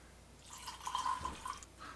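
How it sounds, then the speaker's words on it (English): Whiskey, a 12-year single malt Scotch, trickles into a glass in a short, faint pour with soft dripping splashes over quiet room noise. "I'm actually just gonna pour myself just a little dash more"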